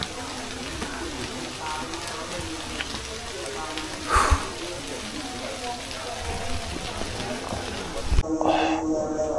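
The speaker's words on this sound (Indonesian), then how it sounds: "Dan udah mulai hujan kawan." Rain begins falling on a pine-wooded mountain trail near a camping ground, a steady soft patter with a couple of sharper taps close by.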